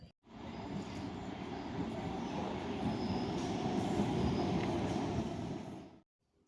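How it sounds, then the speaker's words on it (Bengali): Steady, loud rumble of a moving train heard from inside a carriage on the way to Mayapur, a continuous broadband roar with faint rattling that holds evenly for several seconds before cutting off, with no talking. "তো বন্ধুরা আমরা এখন ট্রেনে করে যাচ্ছি"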